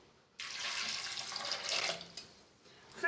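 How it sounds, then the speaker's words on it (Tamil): Water pours into a pressure cooker holding chickpeas and potatoes, a hissing, splashing stream that starts suddenly and runs for about two seconds, then trails off into drips and clatter. "ஃபுல்லாக இது மூழ்கிற அளவுக்கு தண்ணி ஊற்றிடுங்க"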